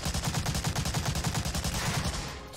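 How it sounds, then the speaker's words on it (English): Machine-gun fire in the World War II shooter Medal of Honor: Allied Assault, a steady rapid stream of shots at an even rhythm for over two seconds, then trailing off, with no voices. "Sorry, I couldn't hear you over the machine gun fire."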